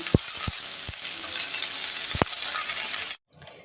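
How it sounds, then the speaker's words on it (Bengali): Thin-sliced eggplant sizzles in hot oil in a wok, a loud, steady frying hiss broken by a few sharp clinks and pops, then it cuts off abruptly near the end. "এই বেগুনগুলোকে দিয়ে দিলাম এগুলোও একটু আমি ভাজা ভাজা করে নিচ্ছি"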